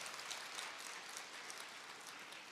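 Steady audience applause fills the room after a guest speaker at a Korean live shopping or lecture broadcast, a dense even wash of many hands clapping at moderate distance with no voices on top.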